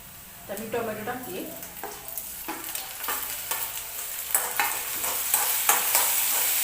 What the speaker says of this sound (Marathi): कांदा व्यवस्थित भाजल्यानंतर आपण त्याच्यामध्ये टोमॅटो टाकून घेऊया